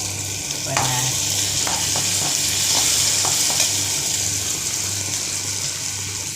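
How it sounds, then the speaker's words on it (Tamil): Chopped onions sautéing in oil in a pan while being stirred: a constant close sizzle with a low hum beneath and light scraping strokes of the spoon against the pan. "ஆனியன் எல்லாம் வதக்கிட்டு சரிங்களா"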